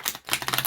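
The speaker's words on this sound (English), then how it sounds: "I like to do a mixture of shuffling just to make sure the cards are nice and" Large tarot cards are riffle shuffled, giving a quick fluttering burst of rapid clicking card snaps that lasts well under a second.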